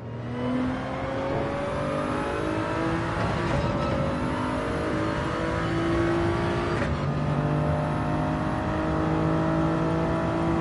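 A GR3 race car in Gran Turismo 7 accelerates out of a corner at Grand Valley. The engine note climbs steadily through the gears, loud and sustained, with brief dips at the shifts.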